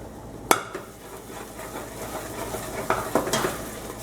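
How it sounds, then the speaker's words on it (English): Garlic and dry red chilies sauteing in a pan on low heat, a soft steady sizzle with a few sharp clinks of a spoon against the pan. "Let it saute on low for good 4 or 5 minutes until garlic becomes completely kind of like a little bit brownish."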